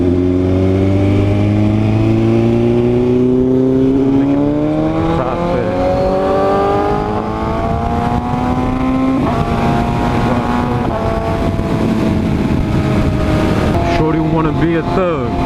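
BMW S1000RR superbike with a loud exhaust revving and accelerating hard, a rising, howling engine tone that climbs through the gears, loud and close throughout, over a noisy wind-buffeted background.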